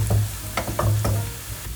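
Chopped onion fries in a pan, a steady sizzle broken by a few quick scraping stirs of a utensil, close and alone without any talk.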